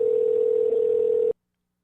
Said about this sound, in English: Love the sound of a phone ringing,